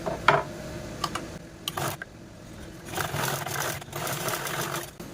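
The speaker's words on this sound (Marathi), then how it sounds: "बघा अशा पद्धतीने टीप मारून झाल्याच्या नंतर आपल्याला यावरती पुन्हा अशा पद्धतीने टॉप स्टिच पण देऊन घ्यायची आहे" A sewing machine top-stitches blouse fabric in short, close whirring runs separated by brief pauses, with a few sharp clicks as the cloth is handled.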